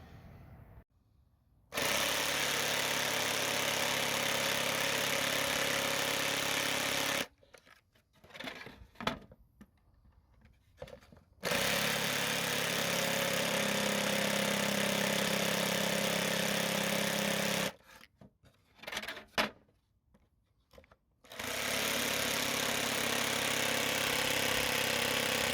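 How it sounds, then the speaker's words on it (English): A power jigsaw cuts wood in three long buzzing bursts, running steadily for several seconds each, with short pauses of quiet handling noise between cuts. "what we're going to do is finish it off with a jigsaw"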